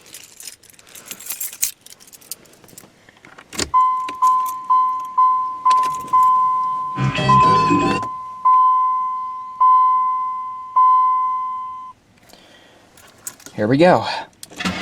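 A 1995 Chevrolet Monte Carlo is started cold in snow, with keys jangling, repeated dash warning chimes, a short cranking burst and the engine catching near the end, while someone speaks briefly.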